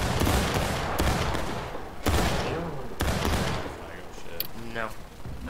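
Rifle volleys crash in the American Civil War video game War of Rights, several sharp loud gunshot bursts with echoing tails spaced about a second apart, while players call out orders over the shooting.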